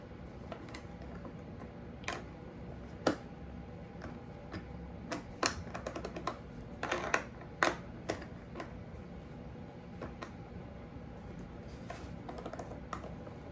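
A skate tool turns the truck bolts on a new skateboard, making quiet, irregular clicking and ticking over a low background hiss.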